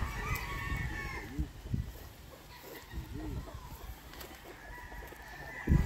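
Gamefowl chickens and roosters on display at Redfoot Game Farm cluck and call at moderate distance, with brief crowing. People talk over the birds throughout.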